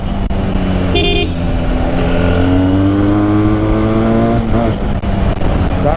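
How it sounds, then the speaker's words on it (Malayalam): A Benelli 302R motorcycle on its stock exhaust runs with a loud, continuous engine drone that climbs gradually in pitch as it revs. A brief higher tone cuts in near the start. "ഇതാണ് വണ്ടിയുടെ സ്റ്റോക്ക് സൗണ്ടാണ് കേട്ടോ."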